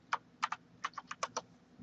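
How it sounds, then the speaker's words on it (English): Quick bursts of keystrokes on a computer keyboard while entering text into a Visio 2010 diagram, about eight taps in an irregular rhythm, close and clear with no talking. "if you select the object and just start typing"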